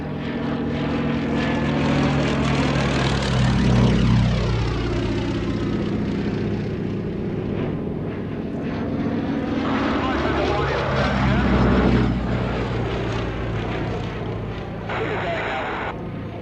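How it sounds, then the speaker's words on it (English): Westland Lysander propeller aircraft flying at an evening airshow: a loud, droning piston engine sweeps past twice with rising and falling pitch as it passes overhead, with a commentator talking over the PA throughout. "the aircraft on first appearance perhaps a little bit cumbersome in the sky"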